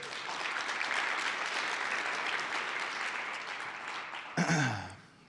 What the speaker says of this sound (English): If we could just give them a round of applause real quick.